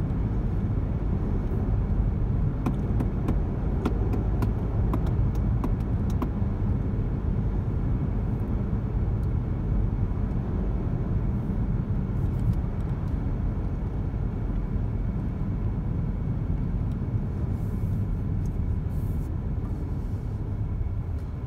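Steady low rumble of a car rolling slowly along a road at about 40 km/h, heard from inside as continuous engine and tyre drone with a few faint knocks, no talk.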